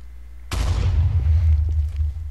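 A siege engine in Minecraft Ancient Warfare fires an explosive shot: after a brief quiet hum comes a sudden loud boom that rumbles on with a deep low roar and fades only slightly.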